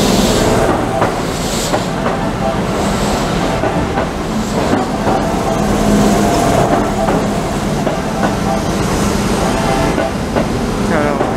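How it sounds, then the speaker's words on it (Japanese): A Keihan 8000 series eight-car limited express train roars steadily through Korien Station in Japan, a continuous loud rumble with rhythmic clatter of wheels over rail joints and no talking. "3番線の電車が通過します"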